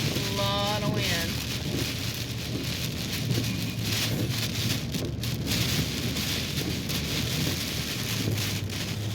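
Heavy tropical-storm rain pours down steadily with gusting wind thrashing trees, a loud unbroken roar with occasional rumbles throughout.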